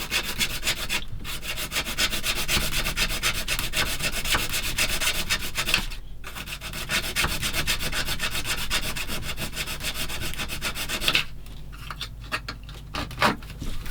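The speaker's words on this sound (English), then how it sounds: "I can sand that bit off" Steady abrasive rubbing as a part of a TAKOM 1/16 scale plastic kit of the M10 IIC Achilles British tank destroyer is sanded, continuous and close, with brief breaks between strokes.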